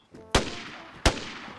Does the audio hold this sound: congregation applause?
no